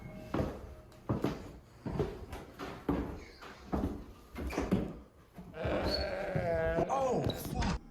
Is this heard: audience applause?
no